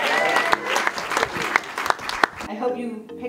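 An audience at a real estate networking event claps for a DJ with a brief burst of scattered, moderately loud applause. It fades out after a couple of seconds and gives way to a quieter room.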